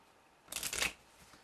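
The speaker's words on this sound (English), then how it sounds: "I'm going to shuffle the deck up." A deck of playing cards is shuffled during a card trick, one quick riffling burst of crisp fluttering lasting under half a second in a quiet room.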